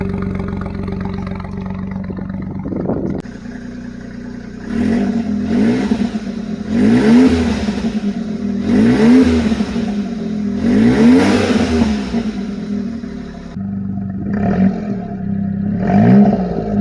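A Suzuki Alto Works engine revs repeatedly through a 2-inch mandrel-bent Suzuki Sport catback exhaust, with rising and falling blips in regular bursts, loud and close with no talking.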